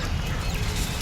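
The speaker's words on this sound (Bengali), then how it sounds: "একটা রাজা হাঁস" A drake duck quacks in a few short, raspy calls against a noisy background rumble.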